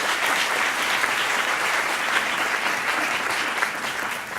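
Sustained, dense audience applause at a research showcase event, as a speaker representing the Toulon-Provence-Méditerranée metropolis is introduced; steady and fairly loud throughout with no break.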